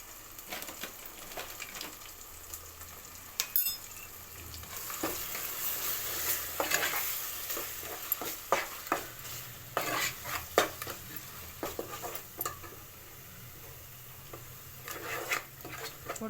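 Ground masala paste for egg curry fries in oil with salt, turmeric and chilli powder, a soft steady sizzle broken by frequent sharp spoon-against-pan scrapes and clinks, close and without talk.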